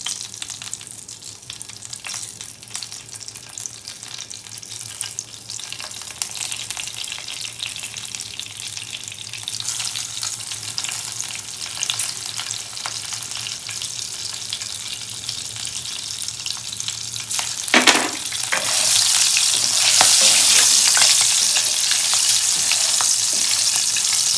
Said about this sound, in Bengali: লঙ্কাটা আর কালো জিরেটা অল্প ভাজা হয়ে গেল